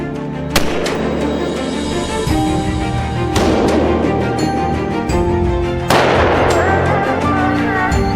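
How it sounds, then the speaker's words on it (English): Three heavy gunshots boom several seconds apart in misty mountains during a black bear hunt in the Victoria Highlands, each followed by a long rolling echo over a steady rumbling background. "The sound of gunfire echoes among the misty mountains of the Victoria Highlands"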